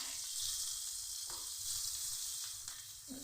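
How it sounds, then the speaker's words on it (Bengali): Ground turmeric, cumin and coriander powder sizzle in hot oil in a pan for a cauliflower paratha filling, a steady soft hiss broken by a few scraping stirs, close and fairly quiet with no talking. "ভেজে নিচ্ছি"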